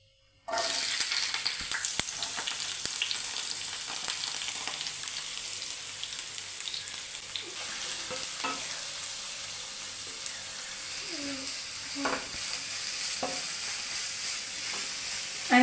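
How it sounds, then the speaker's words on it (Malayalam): Three sliced onions fry in a pan for soya fry, a continuous close sizzle like light rain that starts abruptly, with occasional stirring clicks and scrapes scattered through it. "ഞാൻ മൂന്ന് സവാളയാണ് എടുത്തേക്കുന്നത് നമുക്ക് സവാള വയട്ടാം"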